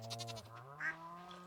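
A goat in the farming game Stardew Valley bleats once, a short wavering bleat sounding fairly close over a quiet, steady backdrop of game music.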